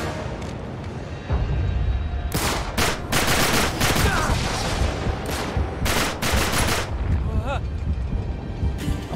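Video game gunfire in Uncharted 3, loud bursts of rapid shots and fusillades in a shootout, with a person talking over the action between volleys.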